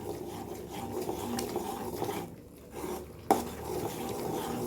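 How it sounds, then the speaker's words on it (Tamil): A thick Mysore pak mixture is stirred steadily in a pan, making continuous close scraping and rubbing with one sharp clack against the pan near the end, and no talk. "கை மட்டும் விடாமல் கிண்டணும்"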